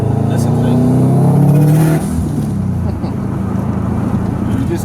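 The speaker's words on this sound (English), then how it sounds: "Oh, and Go Fast Bits, 50/50 blow off valve as well." Subaru WRX hatchback with a Process West front-mount intercooler and Go Fast Bits 50/50 blow-off valve revs loudly and steadily for about two seconds, then drops off into a rougher, lower idle, with some talk mixed in.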